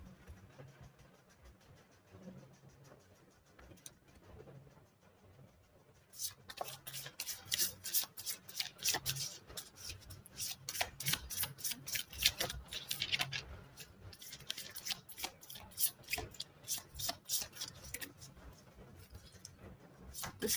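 A deck of tarot cards is shuffled close up: after a few quiet seconds, dense rapid riffling and slapping of cards starts and continues in busy bursts, with no talk.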